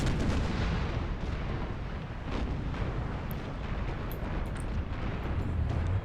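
Ship broadside cannon fire in Empire: Total War, a dense rolling barrage of booming shots that overlap continuously for several seconds, loud and heavy with no talk.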